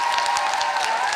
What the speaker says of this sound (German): Nochmal einen Applaus für die Con bitte und die Techniker.